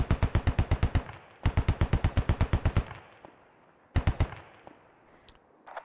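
Automatic gunfire in a SquadOps military shooter: two rapid bursts of about eight shots each, then a shorter burst after a pause, loud and close with a fading tail.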